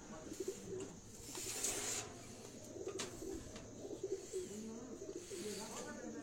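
Prized rare pigeons at a farmhouse cooing in low repeated calls on a rooftop, some chirps mixed in, moderate distance, with a voice speaking faintly at times underneath.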